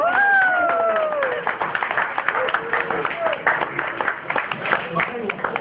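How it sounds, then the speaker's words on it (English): An audience applauds a performer after a rope-and-knot magic trick, a dense, steady wash of clapping with a few raised voices and whoops riding over it. "Give her a nice round of applause."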